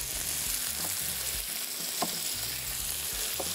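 Tomatoes layered over potatoes sizzle steadily in a frying pan for Georgian ojakhuri, a continuous close crackle with brief clinks of a utensil against the pan.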